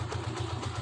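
A Honda TMX motorcycle with its original carburetor and piston idles close by after starting on the first kick, its steady low engine putter beating evenly with no voices.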